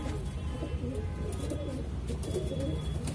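Soft, low cooing of a Saharanpuri high-flyer pigeon murmurs steadily against a constant background rumble, nearby but not loud.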